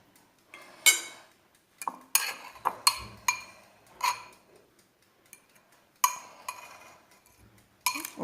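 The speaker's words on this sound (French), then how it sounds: "Donc là, je vais mélanger." A utensil stirring a mixture in a bowl, making close clinking and scraping strokes in irregular bursts with short quiet gaps between them.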